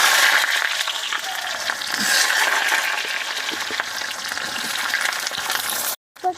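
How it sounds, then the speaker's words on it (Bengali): Eggplant pieces dropped into hot oil fry with a loud, close, crackling sizzle that holds steady, then cuts out briefly before a short final burst. "বেগুনগুলো দিয়ে ভেজে নেব"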